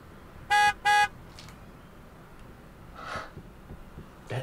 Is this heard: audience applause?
no